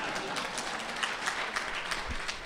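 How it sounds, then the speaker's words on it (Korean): An audience applauds at a Christian business conference talk in Tokyo, giving a short burst of steady, moderately loud clapping from many hands in a hall. "이런 때 박수 한번 쳐요"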